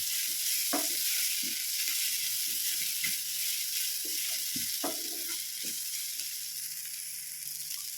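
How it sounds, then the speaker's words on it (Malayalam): Spice powders, including ground cumin, fry in a pan under a constant soft hiss while a spoon mixes them, making scattered light scraping taps close by. "ഇതെല്ലാം കൂടെ ഒന്ന് മിക്സ് ചെയ്യുക"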